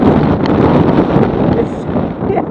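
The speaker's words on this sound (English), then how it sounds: "It's ridiculously windy." Strong wind roars and buffets the microphone continuously on the Wild River log flume ride at Botton's Pleasure Beach, Skegness. The rushing noise is loud and close throughout.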